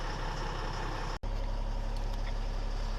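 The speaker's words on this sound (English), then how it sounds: "So we'll let the truck warm up for about 15 minutes." An M1078 LMTV military truck's engine idles as it warms up, a steady low rumble that stays loud and close. It breaks off for a split second near the middle, then carries on unchanged.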